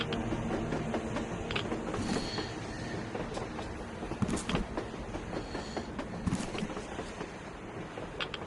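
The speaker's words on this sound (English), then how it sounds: "A train! A damn train on the surface!" A train rolls past on the surface in the Metro video game, a loud continuous rumble with rhythmic clacking and metallic knocks throughout, no speech heard.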